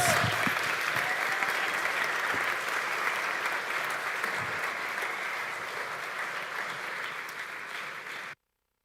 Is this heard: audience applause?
yes